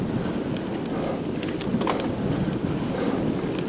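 Headwind roaring into the microphone of a cyclist riding on a country road, a loud constant rumble and buffeting with no speech.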